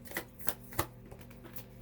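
Tarot cards being shuffled by hand, a few soft riffling bursts and taps spaced irregularly, close and quiet with no talking.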